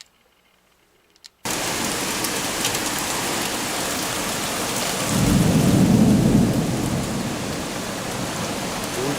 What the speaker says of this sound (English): It should be raining.